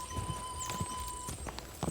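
A horse galloping in the video game Kingdom Come Deliverance 2, with a steady run of close hoofbeats and a faint whinny over a continuous background hum.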